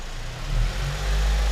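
A car engine runs steadily with fuel system cleaner in the system, a low mid-pitched hum that swells slightly as if revving, close and alone.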